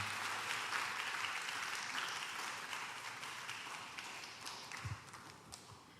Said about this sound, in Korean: 자, 더 잘하라고 박수 한번 더 해야겠습니다.